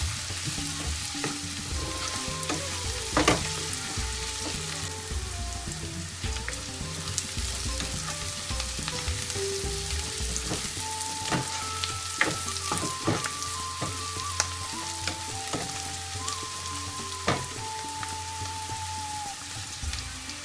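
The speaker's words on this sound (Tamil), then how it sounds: "இப்போ வெங்காயம் நல்லா வதங்கிடுச்சு" Small onions sauté in a pan for mutton uppu kari, a steady close sizzle with scattered crackles and stirring clicks, alone with no voices.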